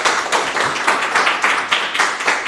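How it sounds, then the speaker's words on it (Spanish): A church congregation claps together in a steady, rhythmic beat, many hands striking about three times a second, full and close throughout. "dale fuerte aplauso al Señor"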